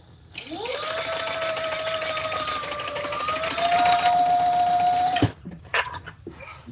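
A home sewing machine stitching down a seam runs steadily and close for about five seconds, its whirring motor rising slightly in pitch partway through before stopping abruptly, followed by brief handling noises.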